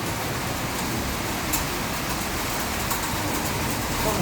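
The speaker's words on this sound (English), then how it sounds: "Well, that rain's pelting down." Heavy rain pelting down during a thunderstorm in Salou, a dense steady hiss with occasional sharper drops, continuous and fairly loud with no voices.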